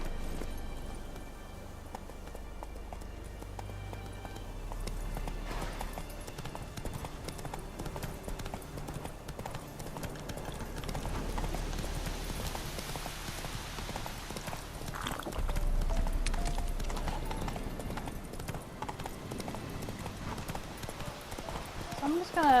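Roach the horse galloping in The Witcher 3, rhythmic clip-clop of hooves running throughout, partly under someone talking.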